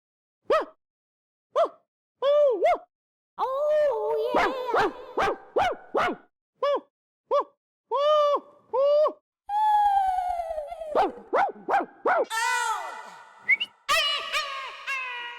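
A dog gives a run of short barks, yips and whines, some sharp and spaced, others drawn out and wavering, loud and close with quiet gaps between bursts.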